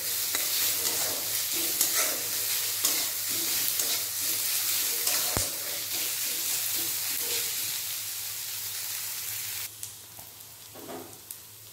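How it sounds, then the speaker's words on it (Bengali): Chopped onion with salt frying in a pan, a steady close sizzle with occasional stirring scrapes, fading quieter near the end. "পেঁয়াজ ভাজা ভাজা হয়ে গেছে"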